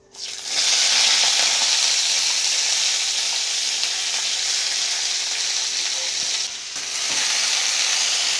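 Pieces of sour spinach dropped into a hot pan burst into a loud, steady sizzle that holds throughout, with a brief dip and a soft stir partway before the frying resumes at full strength.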